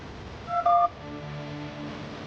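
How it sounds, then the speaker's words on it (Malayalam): A telephone being dialed gives a brief burst of two or three close, loud keypad tones, followed by a soft steady hum with no talking. "ഫോൺ എടുത്ത് ആരെയോ വിളിച്ചു"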